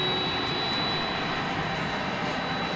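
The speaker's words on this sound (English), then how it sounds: "Let's watch a Frontier flight come in, shall we, from Ontario, California." A Frontier Airbus A320neo airliner arriving on approach to land, a steady broadband jet engine roar with a thin high whine, continuous and moderately loud at a distance, no voices.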